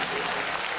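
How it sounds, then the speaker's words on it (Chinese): Audience clapping in a school hall, a brief dense burst of applause from a crowd, loud and continuous for under a second. "我们是以最热烈的掌声来表示我们的谢意。"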